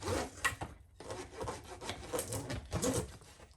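A wax block rubbed back and forth along the raw plastic starter strip of a swarm trap frame, giving a close, dry, rhythmic scraping with short strokes and brief pauses.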